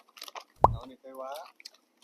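One sharp crunchy bite into a dry bagelen rusk sounds up close, followed by murmured vocal sounds and faint chewing noises.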